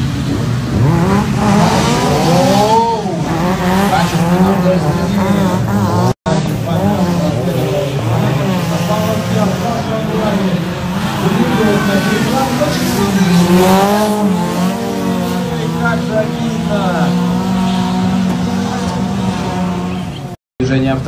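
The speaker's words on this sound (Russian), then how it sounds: "Движение автомобиля." Racing cars in a top-eight competition heat roar continuously and loudly, engines rising and falling in pitch as they accelerate and turn, with tire squeal mixed in and a voice talking over the noise.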